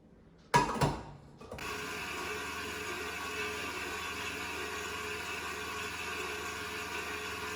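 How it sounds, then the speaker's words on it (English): An electric mixer whirs into action on a mascarpone mixture for strawberry tiramisu: a sharp start-up clatter, then a steady, even motor hum that holds to the end. "I'm just going to put it to blend."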